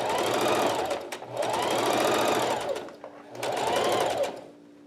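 Sewing machine stitching a seam on a center-fold face mask, sewn with the insides out, running loud and close in three continuous bursts with brief pauses between them.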